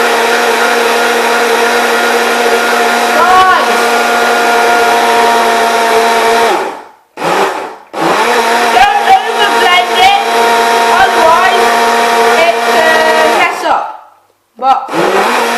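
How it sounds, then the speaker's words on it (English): A kitchen blender whirs loudly while blending a banana milkshake, running steadily in long stretches with two brief pauses as it stops and restarts. "But I don't actually know how much you're supposed to blend it."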